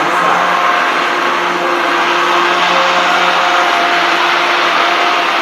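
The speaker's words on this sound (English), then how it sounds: "So I'm going to be using my immersion blender" A loud, steady whirring motor drones without pause, the sound of an immersion blender churning through thick roasted tomato soup.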